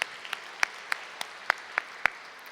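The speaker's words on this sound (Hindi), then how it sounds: "इन सब के लिए 8-8 तालियां तो बजती हैं।" Audience clapping at a spiritual gathering, eight sharp, evenly spaced synchronized claps counted out in a steady rhythm, crisp and distinct over a quiet background.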